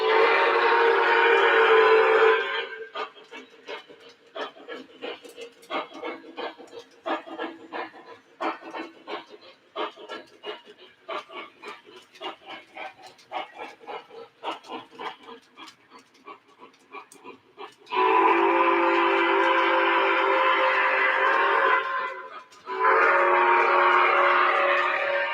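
Model train running on track with a whistle, bursts of steady whistle tone at the start and again near the end, rhythmic clicking and rumbling of the train in between, fairly close and loud.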